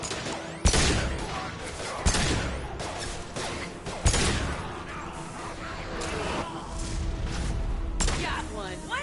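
Squads firing guns in a video game battle, with sharp gunshot bursts and heavy impacts recurring every couple of seconds over a dense rumble of combat noise, loud and close.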